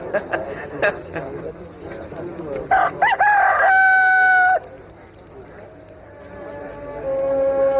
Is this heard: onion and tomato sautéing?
no